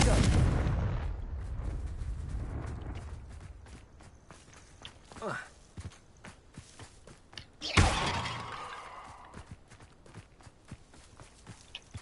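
Blasting spell shattering vases in a Harry Potter video game, a loud whooshing burst and crash among rapid game footsteps, with a faint earlier blast and a person speaking.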